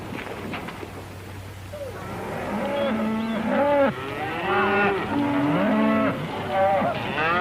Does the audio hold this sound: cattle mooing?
yes